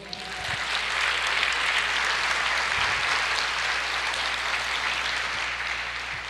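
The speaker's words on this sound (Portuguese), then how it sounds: "Você pode aplaudir o Senhor?" A church congregation applauding during a service, a broad wash of clapping that swells in the first second, holds steady and slowly eases off, with a low hum underneath.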